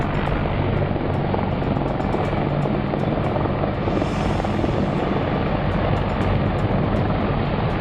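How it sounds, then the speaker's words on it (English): A loud CH-53 heavy helicopter roars steadily with thumping rotor blades and dense engine noise, close and constant throughout. "a heavy CH-53 chopper totally crashed in Iraq"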